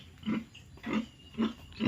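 A pregnant pig at 95 days gestation grunts four times in a steady rhythm, each low grunt close and clear, with quiet pauses between them.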